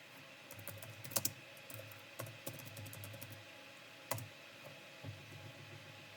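Quiet keystrokes on a computer keyboard as a file name is typed into MATLAB, an irregular run of soft clicks with a few sharper taps and brief pauses between them.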